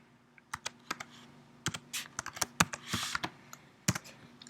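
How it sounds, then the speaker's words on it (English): Typing on a computer keyboard while entering equations into a math program, a quick irregular run of sharp key clicks with short pauses between bursts, close and clear with no talking. "So I'm typing in my equations."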